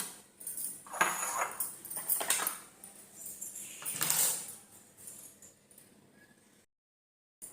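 Paniyaram batter of barley, aval and rava with curry leaves being mixed in a bowl: a few sharp spoon scrapes and clinks against the vessel in uneven bursts, fairly quiet, then fading to silence at the end.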